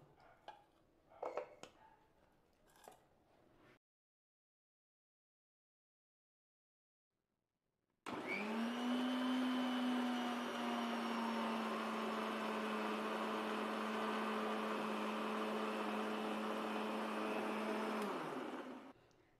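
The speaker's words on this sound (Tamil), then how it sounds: "இப்போ சின்ன ஜாரில் போட்டு நல்லா நைஸாக அரைச்சிக்கணும் கொஞ்சம் கொஞ்சமாக போட்டு அரைச்சிக்கலாம்" Mixer grinder in a small jar blending cooked carrot with milk into a smooth paste: a loud, steady motor whir runs for about ten seconds and then cuts off, following brief handling clatter and a silent pause.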